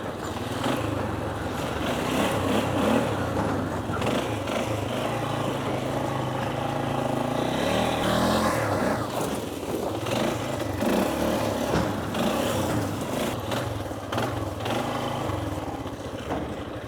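An ATV rides off-road over rough terrain while towing a Marlon tub trailer, its engine droning steadily and fairly close throughout, with the throttle rising and falling a little as the machine works over uneven ground.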